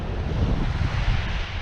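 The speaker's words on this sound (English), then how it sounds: "I didn't know that was going to be this windy" Strong, gusty wind buffets the microphone at Mary Cove, a seaweed-strewn beach on Rottnest Island, a steady low roar with surges throughout and no voices.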